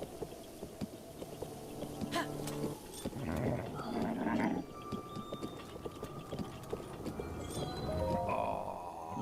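Horse hooves clip-clop in The Legend of Zelda: Breath of the Wild, light rhythmic steps mixed with game sound effects and a faint music tone, quiet overall.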